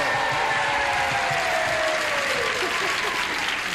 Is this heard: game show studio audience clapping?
yes